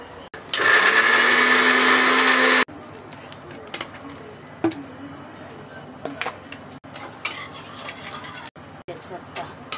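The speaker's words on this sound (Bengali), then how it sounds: "আদা রসুনটা পিষে নিচ্ছি পেঁয়াজের সঙ্গে" A blender grinds ginger, garlic and onion into paste in a loud, steady whir for a couple of seconds, then cuts off, leaving light kitchen clatter and a cooing pigeon nearby.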